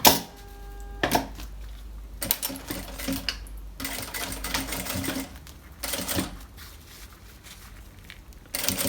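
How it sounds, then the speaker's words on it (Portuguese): A sewing machine stitches a seam on a school pencil case, running in several bursts of steady mechanical whirring and clatter with short stops between runs, close and moderately loud. "E vou passar uma costura, agora aqui pra fechar."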